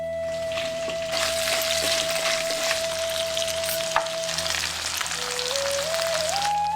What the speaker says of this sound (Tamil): இதெல்லாம் சேர்த்து எண்ணெயில நல்லா வறுத்துட்டு இரநூறு கிராம் நறுக்கின பெரிய வெங்காயத்தை சேர்த்துருவோம்